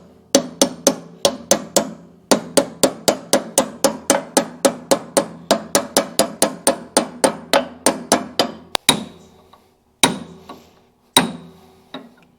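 A metal hammer drives a greased bearing into a part of a diesel compactor, giving dozens of sharp ringing strikes in a fast steady rhythm, then a few slower, spaced final blows, loud and close.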